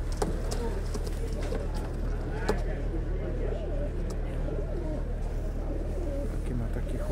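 Pigeons coo softly and repeatedly at an outdoor pigeon market in Grajewo, Poland, under nearly constant nearby talk and a steady low rumble of background noise.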